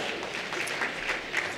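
Audience applause at an awards ceremony, a steady wash of many hands clapping close and evenly throughout, with no voices over it.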